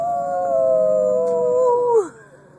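A young child mimics a wolf howl with a long, clear, wavering vocal tone that slides downward and breaks off near the end, loud and close with no other sound around it.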